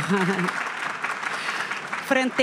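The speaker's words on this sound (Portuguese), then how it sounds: "Palmas, pessoal!" Conference audience at a banking technology panel clapping as a guest is called to the stage, a continuous moderate patter of many hands, with a presenter's voice speaking briefly at the start and end.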